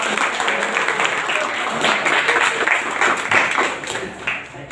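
Classroom applause, students clapping hands together in a dense steady burst at moderate loudness, with some voices mixed in, tapering slightly at the end.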